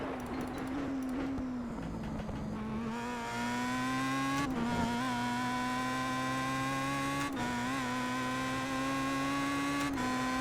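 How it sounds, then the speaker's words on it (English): A Star Mazda open-wheel race car in the iRacing simulator holds a steady, high-pitched whine through the whole stretch, with brief sharp shifts or blips every couple of seconds as revs drop and climb back. The loud, buzzy tone carries no talk. "these Star Mazdas both feel like and sound like remote control cars"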